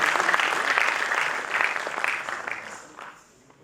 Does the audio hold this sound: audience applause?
yes